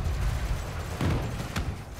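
Spaceship cannons fire in Elite Dangerous: two sharp blasts land about half a second apart over a constant low rumble, with no voices.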